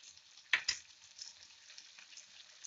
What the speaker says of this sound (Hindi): यहाँ पर मैंने जो सोया सॉस ली थी, इसको हम ऐड कर लेंगे, विनेगर को भी ऐड कर लेंगे